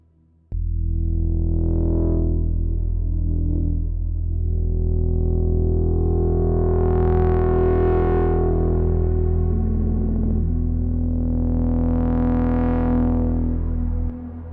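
A sustained Moog Subsequent 37 synthesizer lead with sweeping, swelling filter tones over a steady low drone, washed in reverb, playing alone for about fourteen seconds.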